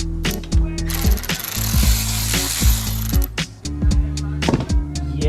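A ratchet is worked to remove the clutch from a mini bike, giving rapid clicking bursts in repeated strokes with brief metallic clanks between them, close and fairly loud.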